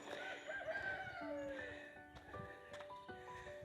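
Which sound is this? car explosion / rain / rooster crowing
rooster crowing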